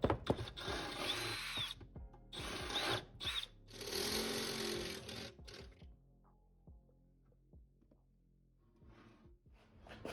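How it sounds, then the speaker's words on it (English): A power drill bores a 16 mm hole in a car oil pan on a Nissan 240SX S13 with a KA24DE turbo engine. Loud whining bursts of drilling come in several runs, then quieter clanks and handling noises. "I'm going to try to find a drill bit. It's about 16 millimeters right now to get this hole drilled out on there."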